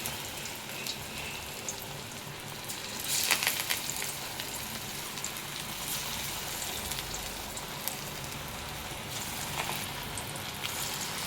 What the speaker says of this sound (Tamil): இதை வந்து இப்போ நம்ம எண்ணெய் நல்லா காஞ்சிடுச்சு, எண்ணெயில் இப்போ சேர்த்துக்கலாம்.